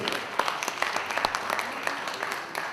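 An audience at a conference session applauds to welcome a panelist, a steady wash of clapping with sharp individual claps standing out, alone with no talk.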